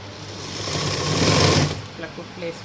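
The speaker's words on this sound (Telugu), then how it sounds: "దాన్ని ఎలా కుట్టాలో ఇప్పుడు చూసుకుందాం" A sewing machine runs briefly, sewing the lining of a blouse, in a short close whir that rises and then stops as someone talks over it.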